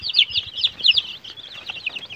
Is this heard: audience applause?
no